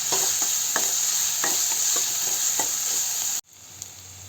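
Ground masala for an egg gravy sautés until golden in a village-style pan, with a loud, continuous bright sizzle and regular soft stirring scrapes before the sound cuts off abruptly to near quiet.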